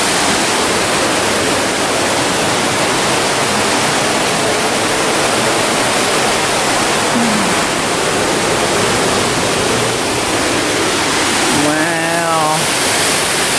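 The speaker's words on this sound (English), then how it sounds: "Rock City didn't have this big old waterfall behind it." A steady, powerful roar of falling water fills the whole stretch, close and loud, with a brief exclamation near the end.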